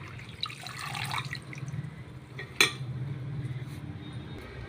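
Water splashing and trickling as tamarind greens are washed in an aluminium pot, with a sharp clink of metal partway through.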